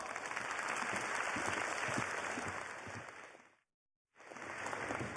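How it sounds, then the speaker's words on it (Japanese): Applause from an audience at a Guilty Gear XX tournament, a dense steady wash of clapping that runs for several seconds, cuts out abruptly into silence, then resumes. "皆さん大きな拍手を。"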